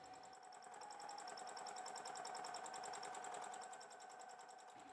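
Sewing machine stitching long thread-sketch lines on fabric, a steady close mechanical whirr with a fast regular needle rhythm running throughout, quiet and alone.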